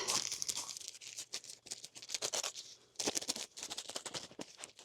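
Crinkly plastic being cut with scissors and crumpled, with repeated snipping and rustling bursts close up, no voices, while trimming plastic for a moss-lined succulent arrangement.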